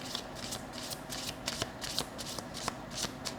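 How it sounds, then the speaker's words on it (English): Tarot cards being shuffled by hand up close, a quiet run of soft, rhythmic riffling flicks repeating about every half second. "Okay, so now I just want to pull out some cards."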